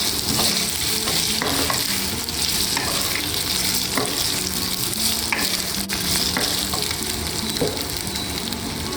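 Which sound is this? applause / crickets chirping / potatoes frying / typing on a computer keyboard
potatoes frying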